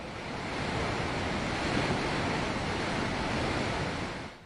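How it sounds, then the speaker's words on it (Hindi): A swollen river near the Sahastradhara picnic spot in Uttarakhand surges after heavy rain, a steady, dense roar of rushing floodwater with no break, close and full throughout. "सहस्त्रधारा पिकनिक स्पॉट के पास बहने वाली नदी उफान पर है"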